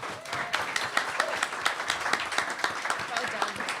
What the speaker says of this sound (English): I think you and David are due a big round of applause.